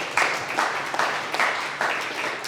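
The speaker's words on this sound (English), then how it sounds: "Give Romick a round of applause." Audience applause at a company quarterly meeting, a dense wash of clapping from a room of people, fairly steady and moderately loud for a few seconds.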